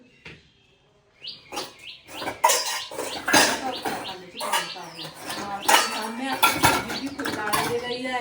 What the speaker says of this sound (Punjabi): ਆਪਾਂ ਭਾਂਡੇ ਮਾਂਜ ਕੇ ਲਾਉਣੇ